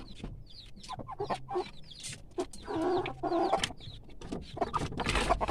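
Farm chickens in a coop cluck and chirp close by, with a steady stream of overlapping short calls and a few louder squawks, and no voices.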